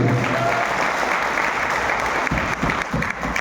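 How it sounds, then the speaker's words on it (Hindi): Loud, sustained applause from a large audience, a dense continuous roar of clapping that holds steady throughout. "जोरदार ताली दीजिए।"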